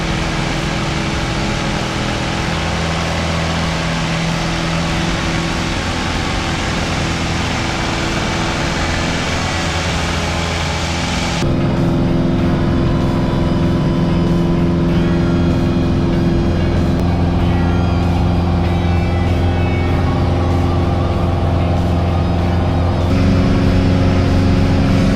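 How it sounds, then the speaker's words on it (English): A Piper Cherokee's piston engine drones loud and steady through the cabin during the takeoff roll on runway 34, a low throbbing hum that shifts in tone partway through and builds slightly toward the end, with no talking. "Take off runway 34, and we'll be departing to the northwest."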